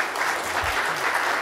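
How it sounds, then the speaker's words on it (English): A church congregation applauds after a Christmas pageant, a steady wash of clapping at moderate level with a brief low thump partway through. "Give them another round of applause."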